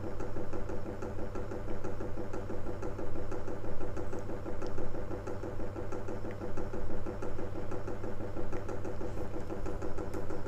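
A small electric motor on an IR LED calculator counter project runs steadily, giving a continuous close whirring hum with a faint knocking pulse throughout, and no talk.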